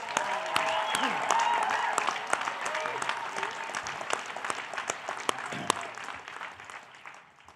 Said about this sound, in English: Please join me in thanking Dr. Chirozi and her team with a very loud round of applause.